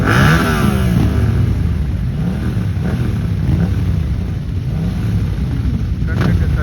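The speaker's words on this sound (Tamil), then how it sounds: "ஈஃபெல் டவருக்கு முன்னாடி ஃபுல்லாக பைக் ஷோ." Motorcycles revving at a crowded bike show in front of the Eiffel Tower in Paris, a steady loud engine rumble with rising revs and strong wind buffeting the microphone throughout.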